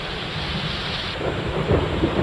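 Heavy rain pours down steadily in Malegaon taluka, Maharashtra, while low thunder rumbles underneath, growing a little stronger near the end.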